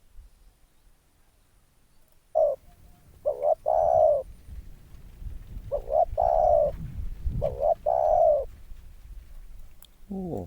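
Spotted doves coo near a dove trap in a few repeated bursts of soft, low cooing phrases, fairly close, with quiet outdoor background between calls and a brief extra call at the end.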